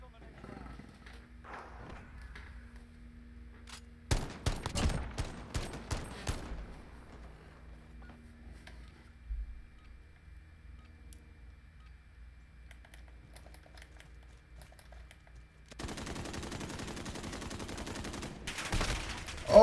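Modern Warfare gunfire comes in a cluster of sharp shots in the middle of the round, then a later stretch of steady rapid fire, with keyboard clicks and a player talking over it.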